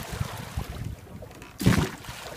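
Oars dipping and splashing in water while a crew rows a boat together, a few soft rhythmic strokes followed by one louder, nearer splash.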